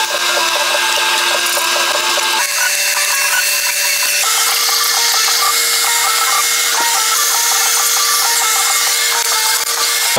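Loud, steady electric hum and buzz of a welder tacking a cut and widened steel fender on a VW Beetle, running continuously with slight shifts in pitch and no talk.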